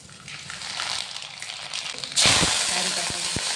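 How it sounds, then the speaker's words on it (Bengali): Dried red chillies and mustard seeds hit hot oil with a sudden loud sizzle about two seconds in. Before that there is a quieter hiss, and a few sharp pops and clinks follow. "তেল গরম হয়ে গেছে, শুকনো লঙ্কা দিব"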